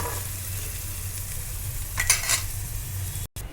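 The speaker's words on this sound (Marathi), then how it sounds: "कांदा पण छानपैकी गुलाबात गुलाबी रंग येईपर्यंत परतून घ्यायचा" Onion sautéing in a pan, a steady sizzle with a brief louder burst of stirring partway through, no speech.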